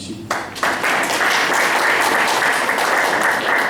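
A crowd claps hard and steadily at a children's ministry league gathering. After a brief quieter start, the applause swells into a dense wash that holds at full volume to the end.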